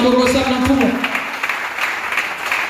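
A church congregation claps and cheers in praise during a French-language worship service, a steady wash of applause filling the room throughout.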